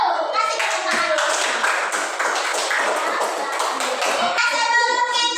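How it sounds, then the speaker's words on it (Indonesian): Fifth-grade children in a classroom clap their hands together in a fast, rhythmic burst of sharp, close claps, with brief kids' voices mixed in near the end. "Kasih tepuk tangan dulu."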